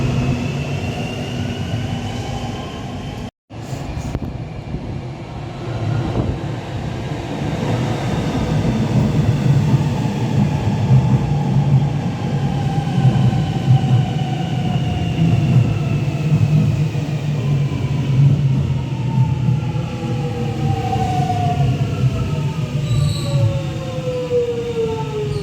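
An Extrapolis electric train on the Victorian railway network rumbles steadily along the track, its rising electric motor whine sweeping upward in pitch as it gathers speed, with a brief silent gap near the start.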